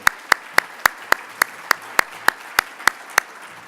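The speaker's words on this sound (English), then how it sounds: "Let's give another round of applause for the participants of that video." At a conference session, sharp, evenly spaced claps ring out about three times a second in a steady unison rhythm, each crisp and prominent over a quiet background.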